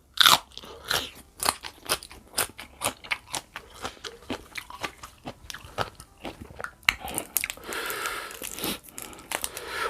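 Crunchy chewing of Luang Prabang-style papaya salad with fresh shrimp and crisp vegetables, with close, loud, rhythmic crunches and wet bites repeating steadily at a fast pace.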